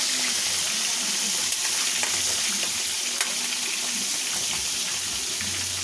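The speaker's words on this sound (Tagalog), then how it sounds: "Iprito kong hakpok siya." Hakpok fish fries in hot oil, a steady bright sizzle and crackle with occasional pops, close and continuous, no talking.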